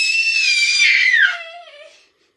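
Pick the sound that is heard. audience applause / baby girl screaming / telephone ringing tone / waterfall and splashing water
baby girl screaming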